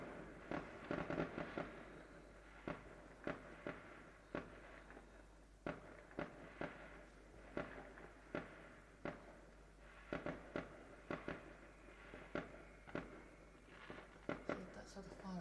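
Fireworks burst repeatedly at a distance, sharp pops and crackles at irregular intervals over a steady low hum, with people talking quietly between the bangs.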